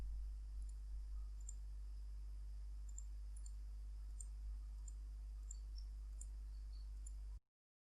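A computer mouse clicks softly and at irregular intervals, faint against a steady low electrical hum while a course registration form is filled in online.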